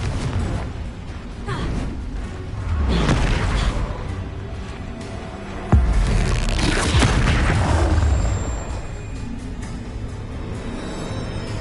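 Booming blasts from the Confringo spell in Hogwarts Legacy, heavy rumbling explosions rolling one after another, loud and close with sharp cracks between the swells.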